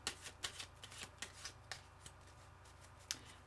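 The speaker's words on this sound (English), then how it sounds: "I need another shuffle" Tarot cards being shuffled by hand, a quiet, close riffling with repeated soft flicks and a few sharper snaps in an irregular rhythm.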